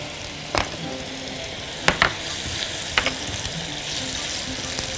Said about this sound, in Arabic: والجنزبيل، بشوحهم كده مع بعض